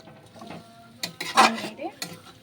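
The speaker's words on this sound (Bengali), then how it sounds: "এবার ধনে পাতাটা আর টমেটোটা দিয়ে দিলাম, দিয়ে ভালো করে নেড়ে দিলাম।" Meat being stirred in a pan with coriander leaves and tomato for a Bengali kosha mangsho, spoon scraping and clinking against the metal in a few close bursts with faint sizzle between.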